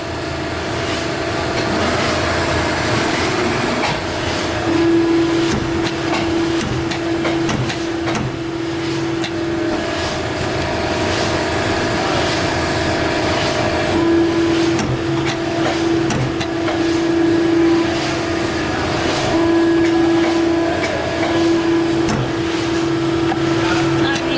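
A Polar 92 paper guillotine cutter runs with a steady industrial hum and a grinding mechanical drone. An intermittent tonal whine starts and stops over the running machine, and faint voices are heard under the noise.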